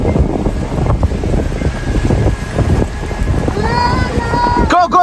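Strong wind roars and buffets across the microphone on an exposed mountain summit, The Pinnacles in Coromandel, New Zealand, a loud continuous rush with gusts throughout and faint voices near the end.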